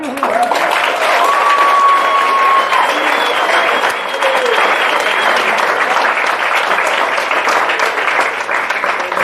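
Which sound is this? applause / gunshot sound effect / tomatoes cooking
applause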